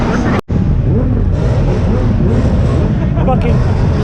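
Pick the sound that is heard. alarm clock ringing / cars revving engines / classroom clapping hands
cars revving engines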